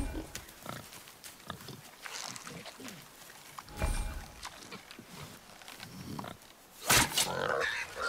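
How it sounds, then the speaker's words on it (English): Wild boar grunts and snorts from the video game God of War, rough low bursts scattered through the scene alongside footsteps and a loud rushing burst near the end, with a voice speaking over parts. "Wild boar's hide is thick."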